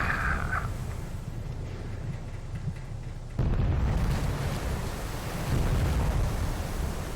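Torpedo strikes on ships in the naval war game Victory at Sea Pacific: heavy rumbling blasts, with a sudden louder boom partway through that rolls on as a dense, roaring low rumble.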